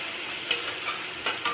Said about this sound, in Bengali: পেস্টটা ভালোভাবে কষিয়ে নিয়ে আমি দেব জিরের গুঁড়ো